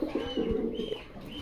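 A pigeon coos nearby in a low, throaty series of soft rolling calls, several short phrases repeating over a quiet background with no talk.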